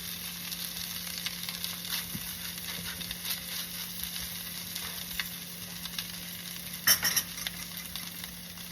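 Green chile pork sears in a pan with a steady, moderately quiet sizzle and hiss, and a short clatter near the end as the meat is turned over.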